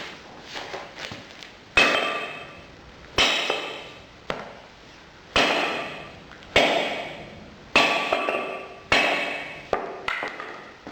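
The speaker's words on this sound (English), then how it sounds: "now I'll attempt to break off a piece of cast iron" A hammer strikes a piece of grey high-tensile cast iron about nine times at an uneven pace. Each blow is a sharp metallic clank that rings briefly before dying away.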